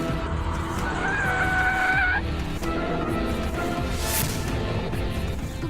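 A car brakes hard and skids to a stop, its tires letting out a short, high squeal for about a second against a dense, busy background; no one speaks.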